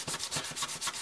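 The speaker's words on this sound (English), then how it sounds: "You see the part that I'm hitting with the sanding block." Sanding block rubbing back and forth on the wooden frame of a free flight model aircraft, a close, steady rhythm of about five scratchy strokes in one second with no talk.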